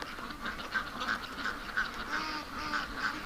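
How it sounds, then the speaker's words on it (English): Ducks quack steadily in a rhythmic chorus of repeated short nasal calls, several birds close by, filling the scene with busy, continuous quacking and no talking. "I can hear a lot of happy quacking going on"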